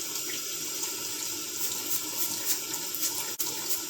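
Jerusalem artichokes are scrubbed under a steadily running kitchen tap, the water pouring into a sink in a continuous close hiss that holds level throughout, with one brief dip near the end.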